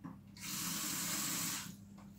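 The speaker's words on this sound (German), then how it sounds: "Und dann gebe ich da Wasser drauf." Water poured from a tap onto sauerkraut in a cooking pot, a steady splashing gush lasting about a second and a half, close and fairly loud, then cut off.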